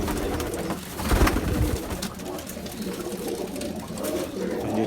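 Flying pigeons kept in a loft coo softly amid a steady background of bird chatter and ambient noise, with a few louder bursts early on.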